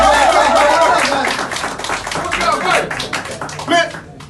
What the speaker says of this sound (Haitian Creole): je pense que Vickerson Gagné comme jeune garçon mérite un gros applaudissement dans la société.